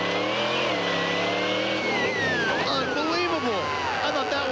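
A monster truck engine revving hard at an arena competition, a loud, sustained roar that sweeps up and down in pitch as the throttle is worked, with commentary talking over it.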